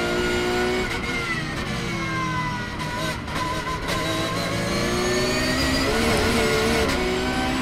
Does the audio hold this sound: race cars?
yes